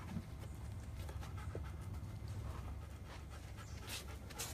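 A dog pants steadily and quietly up close during e-collar training outdoors, a continuous soft breathy rhythm with faint scattered background noise.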